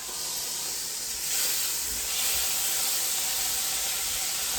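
A thick-edged beef chuck roast sears in a hot pot for pot roast, giving a steady loud sizzling hiss that swells briefly as the meat is pressed to the metal.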